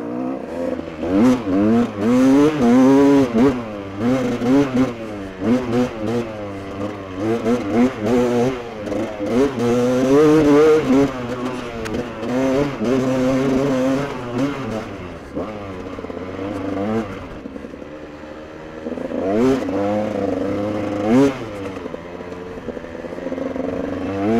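A freshly repaired GasGas motorcycle is ridden hard, its engine revving again and again at full throttle in loud rising and falling bursts. Brief drops come between pulls as the bike climbs through the gears, close and aggressive.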